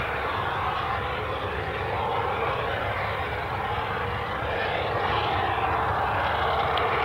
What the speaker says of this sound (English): the incoming Belfast EasyJet flight, which was due in at 5 to 8, came in early